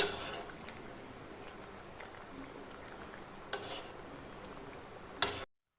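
A thin Bata fish curry simmers over a high gas flame with a faint, continuous bubbling sizzle, a couple of louder stirring clinks, then a sudden cutoff.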